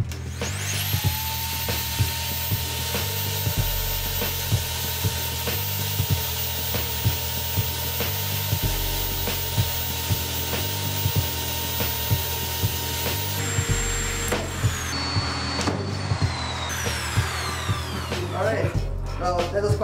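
A high-pitched drill grinds on phone screen glass, whining steadily with gritty scraping and small ticks, running for a long stretch, then shifting pitch near the end.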